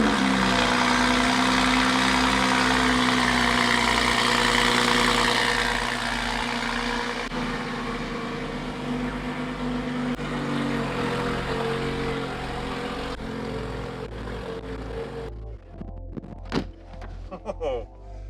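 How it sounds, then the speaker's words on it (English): A car engine cold-starts and idles, a loud, dense rumble with a steady low drone that steps down as revs settle, then quietens near the end as faint knocks and shuffles take over. "let's get a cold start"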